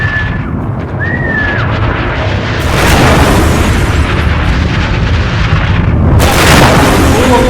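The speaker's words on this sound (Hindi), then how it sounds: "इराक के होटल पर बम गिराया" A bomb blast strikes a hotel in Iraq, a heavy rumbling boom with sustained roar and a second burst of noise later, loud and distorted as in news footage.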